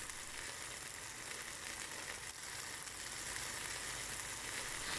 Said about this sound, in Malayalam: ഈ ചിക്കൻ തിരിച്ചും മറിച്ചും ഇട്ട് കൊടുത്ത് 5 മിനിറ്റ് ഹൈ ഫ്ലെയിമിൽ ഡ്രൈ ആയി ഫ്രൈ ചെയ്തെടുക്കാം